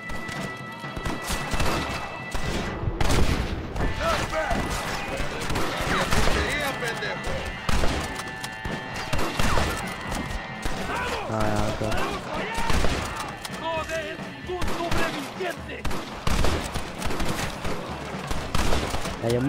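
Bursts of gunfire in Red Dead Redemption on PS5 crackle repeatedly amid busy game sound effects, with a voice talking over the action.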